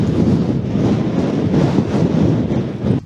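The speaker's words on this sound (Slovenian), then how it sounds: "na mikrofonu, ampak piha ful" Strong mountain wind buffets the microphone on the Dleskovec plateau in late autumn, a continuous loud low rumble with gusty surges that cuts off abruptly near the end.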